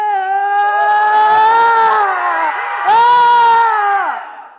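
A group of voices shouts "rabia" together at a wellness summit in a long, loud, sustained yell that dips briefly, then surges again before trailing off.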